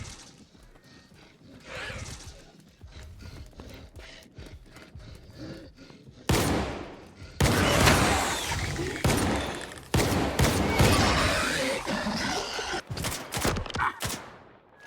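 Gunfire in the video game STALKER 2 crackles in scattered bursts, sparse and distant at first, then heavy, rapid volleys of shots fill the latter half.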